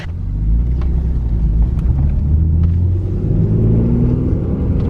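A car engine runs with a steady, loud, low rumble heard from inside the vehicle as it drives toward a Costco parking lot, continuous and unbroken with no talking.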